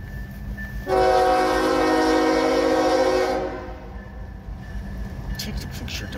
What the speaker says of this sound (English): Looks like it might be an ethanol train.